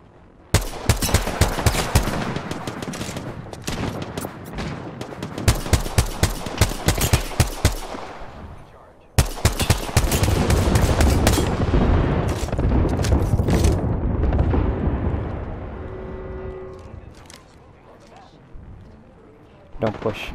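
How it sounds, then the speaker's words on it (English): Airstrike explosions and rapid gunfire in a video game battle: dense volleys of loud cracks and bursts pound for several seconds, break, then return as a heavy rumbling barrage that slowly dies away, with voices underneath. "Watch the airstrike."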